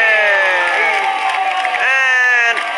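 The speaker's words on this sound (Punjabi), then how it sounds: "ਗੱਗੀ ਮਾਰਦੇ ਤਾੜੀ ਮੁੰਡੇ ਦੇ ਲਈ" A crowd at a village volleyball match shouts and cheers loudly, a dense sustained roar of voices for a few seconds, close and busy.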